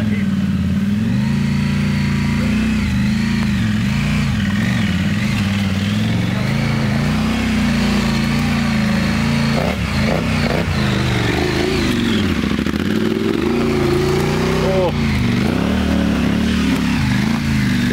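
An adventure motorcycle engine running loud and close on a rough track, a continuous buzzing drone with uneven revving, with voices faintly mixed underneath.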